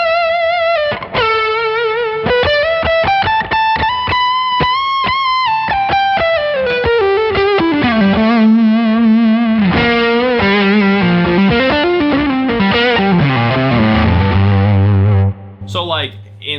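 Overdriven electric guitar through a Neural DSP plugin's ODX overdrive plays a singing lead line with bends and vibrato, mildly distorted with a touch of echo, loud and upfront, ending in low sustained notes.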